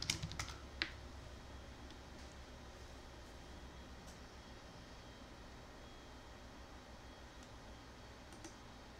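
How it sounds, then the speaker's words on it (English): Typing a password on a computer keyboard, a quick cluster of crisp key clicks at the start followed by a few faint isolated taps against a quiet hiss. "let me type it again."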